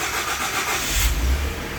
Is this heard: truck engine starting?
yes